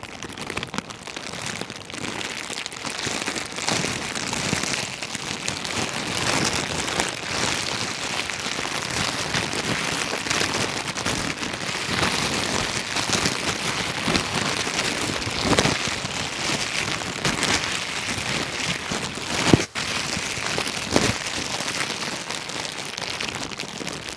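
A mimicry artist imitates falling rain by rustling and crinkling a plastic bag, producing a dense, steady hiss like a heavy downpour that runs without a break, with a sharp crackle near the end.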